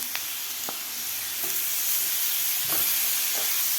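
Large cut tomatoes drop into well-fried onions for a restaurant-style veg Kolhapuri, setting off a steady broadband sizzle with a few soft stirring knocks and spatula scrapes, continuous and fairly close throughout.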